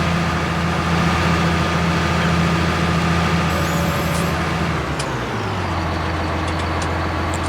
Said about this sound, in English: There's no reason that this tractor should have that much trouble just pulling the cultivator across the ground.